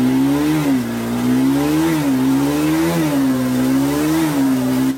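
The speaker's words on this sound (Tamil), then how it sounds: "இந்த சவுண்ட் வந்து பாத்தீங்க அப்படின்னா ஒரு கண்டிப்பா RS 200 சவுண்டா தான் இருக்கு." A 2025 Bajaj Pulsar RS200 motorcycle engine revs up and settles back in four or five rising-and-falling blips. The tone is loud and close, with a steady idle drone in between and no talking.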